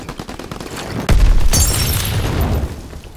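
A grenade blast booms in Call of Duty WWII amid surrounding gunfire, a sudden heavy thump followed by crackling shots and a sharp burst as the rumble lingers and fades.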